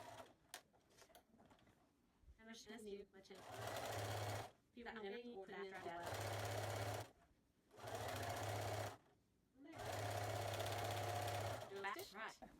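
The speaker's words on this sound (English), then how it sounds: "I'll sew down across the end and then down this side" Sewing machine stitching the side seam of a charm square tote bag, running in four steady bursts of a few seconds each, with short pauses between them and speech at the start and end.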